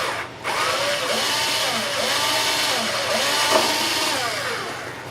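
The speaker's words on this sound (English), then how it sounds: "I've got a small drill bit that I'm going to drill the first hole on this side" A small drill bit bores a hole in a violin during a restoration, a continuous whirring drone whose pitch wavers and sweeps as the bit cuts, close and steady for several seconds after a brief start.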